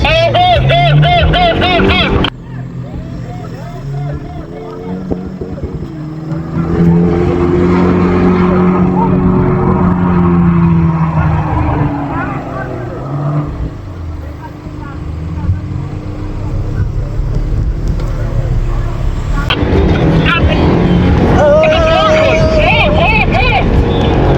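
A car engine roars at full throttle on a desert drive, surging and falling in pitch as it revs hard and close, while voices talk and shout over it.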